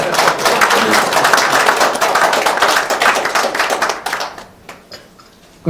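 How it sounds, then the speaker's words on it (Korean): A forum audience applauds with dense, loud clapping that thins out and fades to scattered claps near the end. "박수 한번 해줘요."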